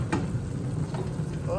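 Milkfish tinola soup stirred in a pot, a steady close sizzling, bubbling churn running continuously through the short moment with no talk.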